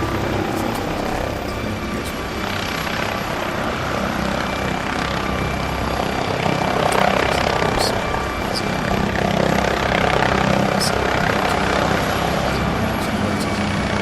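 Steady, loud rotor-and-engine drone of a hovering Osprey tiltrotor aircraft in a zombie video game, constant throughout with a faint voice briefly underneath.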